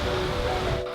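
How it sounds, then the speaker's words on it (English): Ocean waves rolling onto the coast at Kenting, Taiwan, making a brief, close, steady rushing wash with a faint tonal hum beneath it. "Check out the waves."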